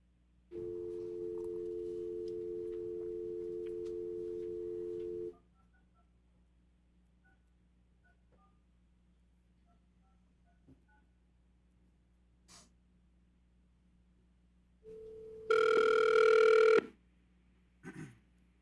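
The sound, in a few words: telephone dialing and ringing to connect a caller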